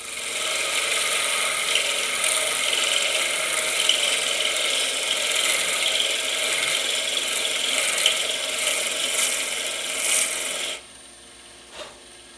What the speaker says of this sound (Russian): вот этой оснасткой, чтобы отшлифовать внутренность